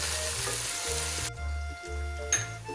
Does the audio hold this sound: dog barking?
no